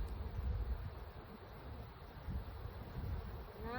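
Honey bees buzz in a steady, close drone around an open hive during a spring inspection, mixed with wind buffeting the microphone.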